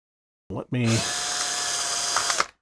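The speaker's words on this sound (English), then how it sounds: "You can see it doesn't take much to drill that out." A brief spoken sound, then a power drill whines steadily for about two seconds, drilling out a rivet on an Evel Knievel Stunt Cycle toy, close and loud, before cutting off.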